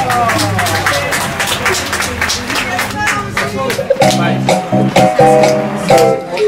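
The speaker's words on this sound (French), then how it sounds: "On applaudit très fort, s'il vous plaît." An audience claps for a singer at a televised show, a dense, continuous patter of hands that runs under music and a speaking voice throughout.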